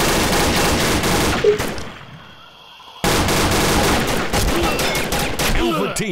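Rapid bursts of gunfire in the video game Combat Arms, loud and close, with a short lull before the shooting resumes.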